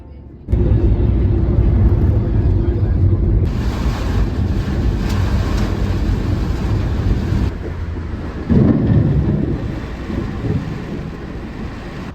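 Heavy rain and rumbling thunder on a bleak day near Mount Adaklu in Ghana's Volta Region, a steady roar of downpour with wind buffeting the microphone and a louder rolling rumble late on, with no speech.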